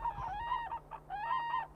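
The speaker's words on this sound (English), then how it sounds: "the black-necked crane" A black-necked crane on its wintering grounds in Bhutan gives two loud, trumpeting calls, each a sustained clear honk with harmonics, separated by a brief pause and heard alone at moderate distance.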